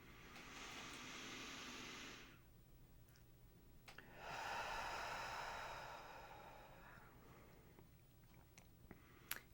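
A slow, deep breath drawn in for about two seconds, then a longer, softer exhale a moment later, both close and quiet with a faint low hum underneath.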